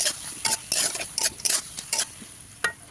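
Fried cauliflower for cauliflower Manchurian with tomato and pepper is tipped into a hot pan and stirred, giving sharp intermittent scrapes and clatters of a spoon over a low sizzle, close up, with no one talking.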